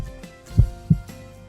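Heartbeat sound with two distinct low thumps about a third of a second apart, near and clear against a faint background hum, with no voices.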